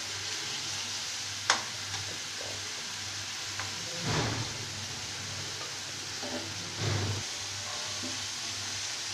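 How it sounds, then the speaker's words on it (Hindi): Spices frying in oil for an Indian-style pasta sauce, a constant fine sizzle with occasional stirring scrapes and a few louder bursts, close and steady without speech. "अब हम इन मसालों को भून लेंगे"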